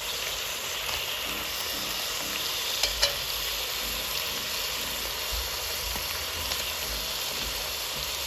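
Ingredients for a spaghetti dish, including frozen peppers, fry in a pan with a constant dense sizzle, steady and close, with a couple of faint utensil clicks.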